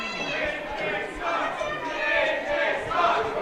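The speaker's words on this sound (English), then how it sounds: "this crowd is going wild for James Jefferies" Wrestling crowd at an AJ Smooth vs James Jefferies match, roaring and shouting in a steady wave of cheers that swells louder toward the end.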